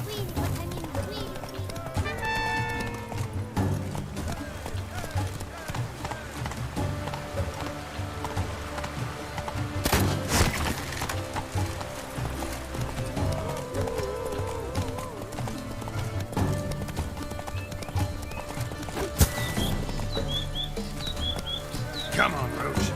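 Roach, the horse in the video game Witcher 3, gallops with a steady clip-clop of hooves running throughout, set inside dense game music and ambient effects.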